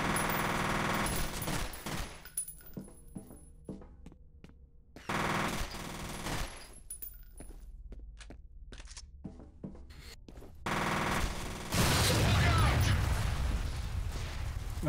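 Rapid automatic gunfire from the first-person shooter game F.E.A.R., with bursts of machine-gun fire broken by short pauses and mechanical clicks, loud and close throughout.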